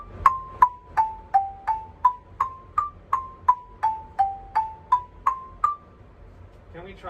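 Mallet percussion exercise, single clear pitched strikes in a steady even rhythm of about fourteen notes stepping from D down to G and back, bright bell-like tones ringing briefly, close and fairly quiet.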